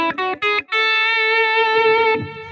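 Electric guitar plays a few quick plucked notes, then rings one sustained bright tone through a distorted amp, the second octave of the A Ionian mode, loud and close with no voices.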